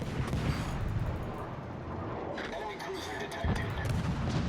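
A heavy, rumbling warship explosion in World of Warships with booming low-end bursts and crackling debris, loud and dense, with a second blast swelling near the end.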